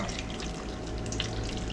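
Homemade marinade dressing poured from a container over a bowl of mixed fresh garden vegetables for a summer salad, making a steady, soft liquid splash that runs through the whole moment without speech.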